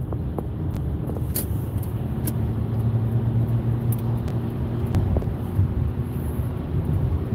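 A car drives slowly on a California freeway in traffic, giving a steady low road rumble and engine hum with some wind noise throughout, close and continuous.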